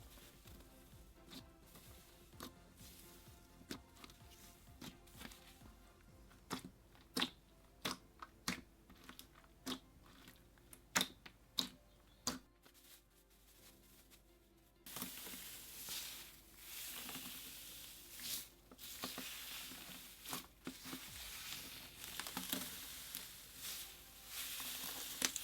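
Overly thick, putty-like slime is squished and played with up close, giving sharp sticky pops and clicks in a quick uneven series that become denser and louder halfway through, with no talk.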